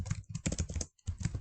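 Fast, irregular clatter of typing on a computer keyboard, close and moderately loud, with a brief pause near the middle before the keystrokes resume.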